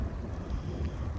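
Cold wind gusts during a big thunderstorm, a rough, continuous roar buffeting the microphone up close, with no voices.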